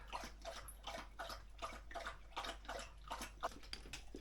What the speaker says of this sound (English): Henchman Dregs comes and starts drinking his water